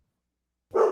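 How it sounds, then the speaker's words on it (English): A single short dog bark near the end of a brief quiet moment, close and fairly soft. "Sorry about the dog."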